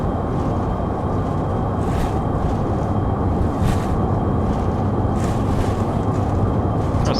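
Airliner engines spool up to takeoff thrust in a flight simulator, a steady, loud, broadband roar that holds without letup, with occasional faint higher whooshes riding on top.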